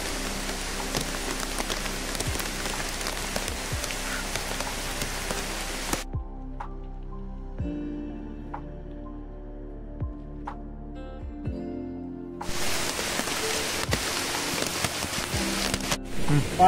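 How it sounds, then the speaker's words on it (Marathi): Heavy rain pours onto leaves and ground in a dense forest at evening, a close, hissing wash that drops to a quieter patter for several seconds before the downpour surges back. "छान पाऊस लागता"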